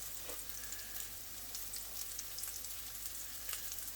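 Meatballs browning in a pan for a rustic minestrone give off a steady, soft sizzle that stays close and even throughout, with no voices over it.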